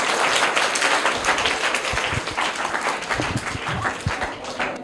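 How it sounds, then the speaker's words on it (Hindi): Children clap for a prize winner at a school quiz, a dense, steady wash of many small hands applauding together for about five seconds, fairly loud and close, with a few low thumps and a faint voice underneath. "तो इनके लिए जोरदार तालियां हो जाएं।"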